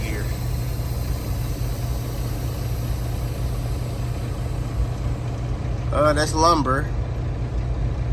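A semi truck's diesel engine runs steadily close by with a low, even drone; near the end someone speaks briefly over it.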